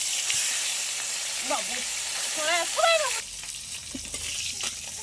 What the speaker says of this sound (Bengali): আমার মাছ ভাজা হয়ে গেছে, তুলে নেব।